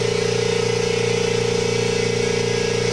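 Kobalt 26 gallon air compressor running during a fill-up, a loud, close, steady motor drone with an even rapid pulsing hum and no pauses.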